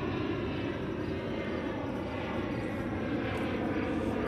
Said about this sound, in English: Here you can hear the plane coming overhead from Reagan International Airport.